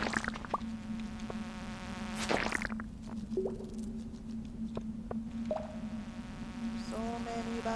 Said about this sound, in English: I'm being attacked by bugs.